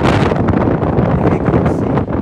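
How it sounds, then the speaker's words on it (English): Strong wind roars across the microphone at the top of the Wonder Wheel on Coney Island, a loud, continuous buffeting rush. "It's very windy up here."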